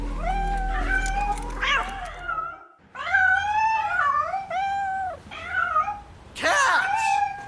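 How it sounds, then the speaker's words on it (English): Cats meowing and caterwauling in a TV episode, a run of loud, drawn-out wavering yowls close by, broken by a short pause, with louder strained cries near the end. "Cats!"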